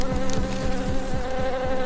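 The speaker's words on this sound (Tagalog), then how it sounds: "Pero ang hindi inakala ni Eman, may mga putyukan na ring pumuntirya sa kanyang mag-ina" A swarm of bees attacking a family near a hillside farm hut, a dense close droning buzz with rising and falling wing tones that fills the stretch, with no talk.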